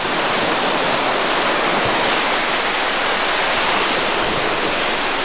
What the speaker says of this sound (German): Hört mal hin auf das Meeresrauschen, meine Freunde